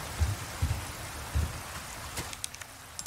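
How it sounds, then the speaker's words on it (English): Steady rain in the video game Resident Evil 4 Remake, a soft continuous patter with a few low thuds and light clicks over it, fairly faint and with no talking. "Oh, now it's raining? I don't like that, coach."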